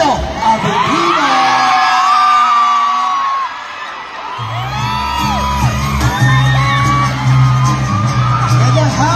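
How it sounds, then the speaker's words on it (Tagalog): A crowd at SM Masinag cheers for Paulo Avelino with loud whoops, screams and shouts close by, and a low droning tone joins partway through under the continuing cheers. "palakpakan natin na may kasamang hiyawan si Paolo Avellino"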